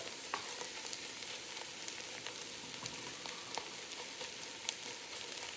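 Onions frying in a pot for French onion soup, a continuous close sizzle with fine crackles and pops, steady and fairly quiet, with no talk.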